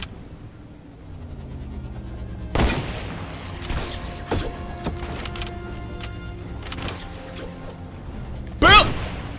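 Fortnite game audio: a loud gunshot blast, then a stretch of ringing tones and scattered thuds, with a second sharp shot near the end, under game sound and without clear talk.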